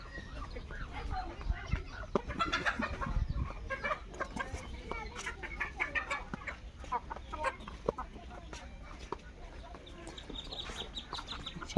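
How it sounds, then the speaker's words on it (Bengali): Ducklings on a village riverside farm, with a busy stream of small peeps and clucking calls of varying loudness scattered across the scene amid light background activity. "হাঁসের বাচ্চা"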